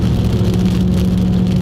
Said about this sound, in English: he's got a super loud exhaust now because there's no cat